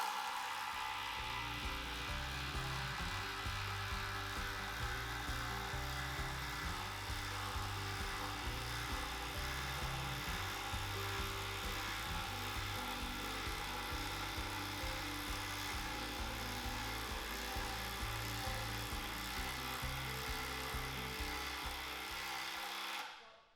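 A DeWalt power drill bores into wood in one long continuous run of roughly twenty seconds, a steady loud whirring and grinding up close that cuts off sharply at the end.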